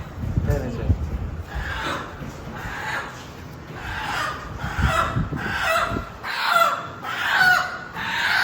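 Chickens clucking and a rooster crowing at a rural village chicken shop, several calls repeating over about eight seconds, close by, with people talking throughout.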